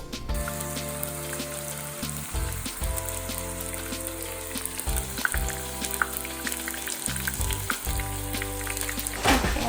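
Tofu for caramelized tofu sizzles in a frying pan, a continuous close crackle with intermittent pops and spurts over a steady low hum, no talking.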